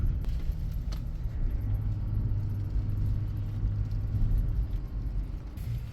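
A 4x4 vehicle crawls over snowy off-road ground with a low, steady engine rumble and muffled drivetrain drone, a few faint knocks and rattles on top, and no voices.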